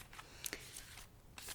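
A deck of tarot-style reading cards is shuffled close up and quietly in ASMR fashion, giving soft papery riffles and brief snappy flicks, heard alone.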